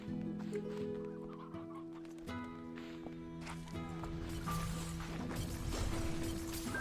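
Chickens clucking in a slime-and-honey farming video game, a steady run of close clucks and squawks over continuous game music, with no talking.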